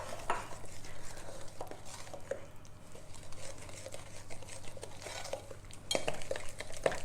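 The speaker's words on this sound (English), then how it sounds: "And give that a stir." Blueberry muffin batter with natural yogurt is stirred in a bowl, soft sloshing scrapes and light clinks of a spoon against the side, fairly quiet and close.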